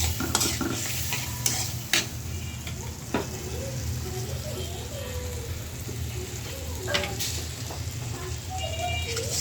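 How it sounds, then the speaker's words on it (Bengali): Cauliflower and potato fry and sizzle steadily in a pan while a spoon stirs them, with scraping strokes and clinks at irregular intervals over a dense, continuous crackle, close up and moderately loud. "এখন এই ফুলকপিগুলা ভালো করে কষায় নেব।"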